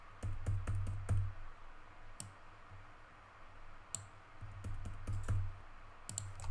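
Sparse keyboard clicks from typing on a computer keyboard, a few quick taps clustered together and then isolated single strokes, close but quiet over a faint hum.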